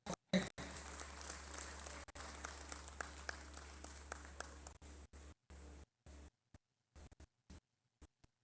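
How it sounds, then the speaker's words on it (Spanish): Audience applause for Professor García at the opening talk of an educational weaving festival, a dense burst of clapping that fades into scattered claps and then stops. "Vamos a rendirle fuertes y calurosos aplausos, compañeros y compañeras,"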